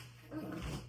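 A dog growls low and rumbling at close range, a short continuous snarl swelling in the middle of a quiet indoor room.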